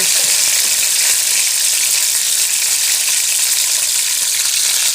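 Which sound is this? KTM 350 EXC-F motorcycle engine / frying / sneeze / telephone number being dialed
frying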